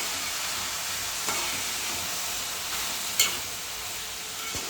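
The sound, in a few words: stirring bottle gourd curry with salt and turmeric in pan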